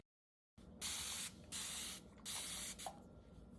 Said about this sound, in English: I'm going to grab my spray bottle and spray this down with just a little bit of water